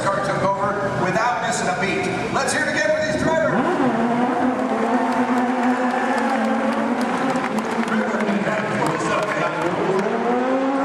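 Audience applause for stunt drivers at a Disney park car stunt show: a steady wash of clapping and crowd noise fills the whole stretch, mixed with an amplified announcer talking over it.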